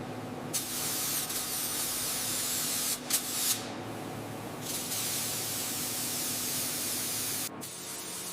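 Spray gun laying a second coat of paint onto a Titan X24 Bull Monster model, a steady close hiss running almost continuously with brief breaks and a few short bursts as the trigger is released and pressed again.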